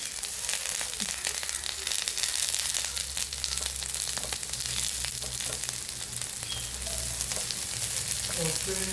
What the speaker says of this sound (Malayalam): എല്ലാം ഉള്ളി ഒന്ന് വഴണ്ട് വരുന്നുണ്ട്